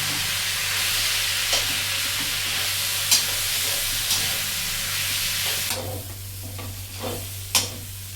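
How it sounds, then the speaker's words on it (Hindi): Gram flour (besan) sizzles in hot oil in a pan while being stirred, a continuous hissing fry broken by scraping strokes and a few sharp clinks of the spoon against the pan. "और अब मैं इसको भूनूंगी पहले बेसन में।"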